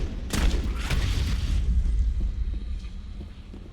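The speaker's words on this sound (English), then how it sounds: "Okay, grenades work." Grenade blasts in the video game Mass Effect: a sharp boom near the start followed by a second burst, then a long rumbling decay that fades out over several seconds, with no voices.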